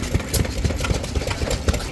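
A 1 3/4 horsepower Mogul stationary engine runs at a fall fair, putting out a regular low thumping cycle with a mechanical clatter on top, close by and without any voices.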